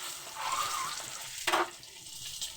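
Boiled eggs frying in hot oil for an egg and potato curry, a soft, fairly quiet sizzle with a brief louder splash of crackling midway.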